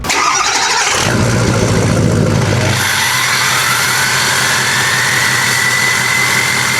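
A heavily modified, very loud diesel truck engine fires up and settles into a rough, throbbing idle, its deep rumble and turbo-like whine close and continuous with no talk.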